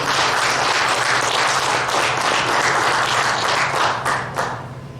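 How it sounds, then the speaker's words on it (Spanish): A church congregation breaks into loud, dense applause. Many hands clap steadily for about five seconds, easing slightly toward the end. "Denle un aplauso al Señor"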